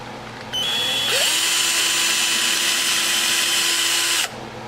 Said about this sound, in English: The glue's still wet, so the glue's sticking to the drill bit